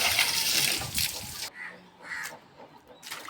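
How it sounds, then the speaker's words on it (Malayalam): Water is splashed and poured over an auto-rickshaw while it is washed, a rushing pour at first, then scattered splashes and trickles at close range. "ഒഴിക്കട്ടെ വെള്ളം ഫുള്ള് ഒഴിക്കേ"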